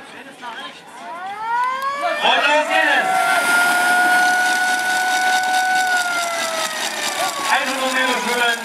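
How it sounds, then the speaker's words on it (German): A siren wails to start a children's triathlon, rising then holding a long steady tone for several seconds over crowd noise, with a voice speaking briefly at the start. "Das Kommando wird sein, die Sirene."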